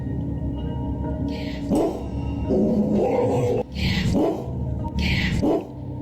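Several dogs bark in loud, close bursts, with yips and whimpering between the barks.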